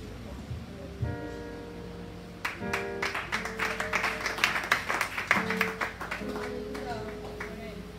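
A church congregation applauds a testimony with scattered clapping that swells into steady applause, with voices talking and calling out over the crowd and music playing in the background.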